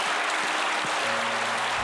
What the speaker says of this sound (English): he deserves a huge applause